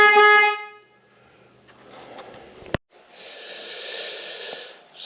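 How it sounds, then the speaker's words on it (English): Horn of a 2022 BMW R1250 GSA motorcycle, one short loud honk at the start, followed by quiet rustling, a sharp click and a faint hiss. "Want to hear the horn now?"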